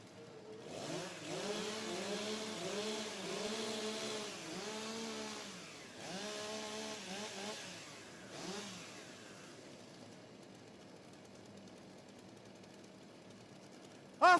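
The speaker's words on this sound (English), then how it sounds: "warm up your saws." Chainsaws rev up and idle at a STIHL Timbersports competition, several throttle bursts rising and falling over the first nine seconds before settling to a quieter idle, heard from a moderate distance with no talk.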